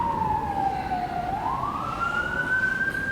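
An ambulance siren wails continuously in street traffic, its pitch sliding down and then rising again as the vehicle moves past, loud and steady throughout with low traffic rumble beneath.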